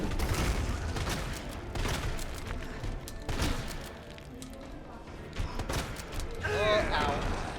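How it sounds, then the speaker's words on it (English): Shotgun blasts in the Resident Evil 2 Remake, booming several times amid game noise and effects, with a player's voice talking over parts of it. "so now we're moving on to the shotgun."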